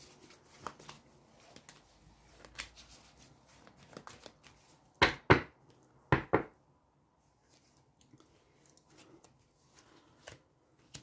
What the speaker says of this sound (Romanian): Le mai amestec o dată.